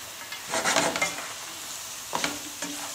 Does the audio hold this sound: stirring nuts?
yes